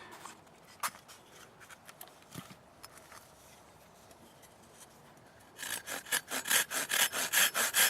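A Silky Super Accel 210 pruning saw cuts through dead poplar wood. A few faint scrapes come first, then a fast run of loud, rhythmic, rasping push-pull strokes close to the listener.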